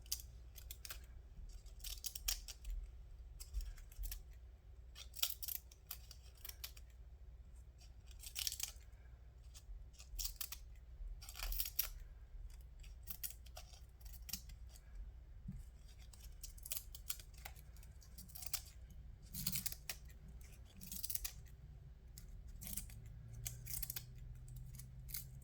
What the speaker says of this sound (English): we could just cut all this out here right now.